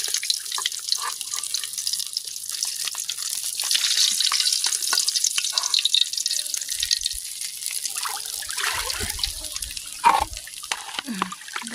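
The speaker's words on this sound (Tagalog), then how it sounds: "Yung dagat nag-high tide na mga ka-sister. Abot na hanggang dito." The sea at high tide washes up a beach close by, a continuous hissing rush of water with small splashes and drips throughout.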